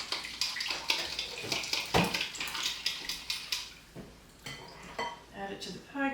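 Apple cider vinegar, egg and water being mixed in a bowl for an apple tart's pie crust, with a series of close clinks, scrapes and sloshing strokes, plus some soft liquid sounds.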